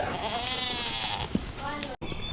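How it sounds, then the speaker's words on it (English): Newborn triplet baby goats on a farm bleating, with one short cry rising briefly over nearby talk. "Jacoby wants to see the new triplet baby goats that we had the other day"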